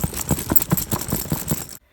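The small metal zippers on a suitcase rattle and jangle in quick rhythmic bursts as it is shaken, close and clattery for almost two seconds before stopping abruptly into silence.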